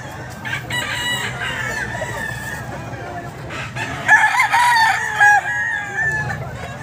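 A Boston Roundhead rooster crows loudly and close by at a pet market, one drawn-out crow in the middle with softer clucks and faint background voices around it.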